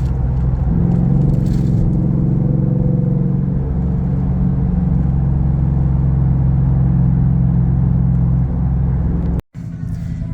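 Steady car engine and road rumble heard from inside while cruising a multi-lane highway around the Virginia, DC and Baltimore beltways, a continuous low drone with a brief dropout near the end.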